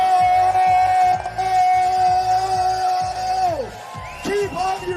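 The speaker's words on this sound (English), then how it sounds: "Everyone cheer! Yell as loud as possible!" A crowd at the FIRST Global Challenge robotics competition cheers and yells loudly and continuously, while a voice shouts over amplified announcements and sustained tones.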